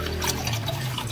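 Water pours from a hose into a cattle trough outdoors, a steady splashing rush with a low hum beneath it, close and continuous for about a second.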